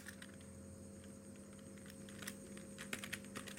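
Faint, quick keystrokes on a computer keyboard while typing a message into a chat room, heard as a soft patter over a steady background hum.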